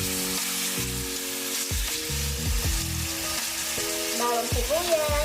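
Marinated chicken for adobong puti frying in a pan with garlic, onion and bay leaves, a strong steady sizzle and crackle throughout, close and loud, with a faint musical tone underneath and no talking.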